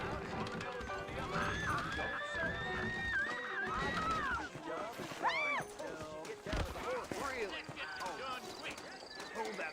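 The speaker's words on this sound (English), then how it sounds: "I got the horses saddled up and ready out front." Horses in Red Dead Redemption, with hooves clip-clopping and snorting and whinnying heard close by under game music and voices talking throughout.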